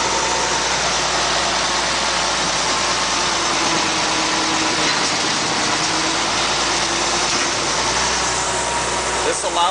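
A Bucyrus Erie 10B dragshovel's engine runs steadily while the boom is raised, a constant mid-pitched mechanical drone with a low rumble, close and continuous, with someone talking over it.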